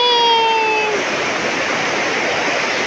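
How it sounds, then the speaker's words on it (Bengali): Heavy rain pours down in a loud, unbroken roar of broadband hiss, with a short voiced sound at the start before the downpour carries on alone. "দেখো আরো জোরে বৃষ্টি পড়তেছে"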